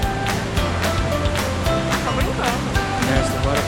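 Water rushes steadily beside a trail at Iguazu Falls, a loud, unbroken roar filling the whole moment, with a voice and other faint activity layered over the constant flow.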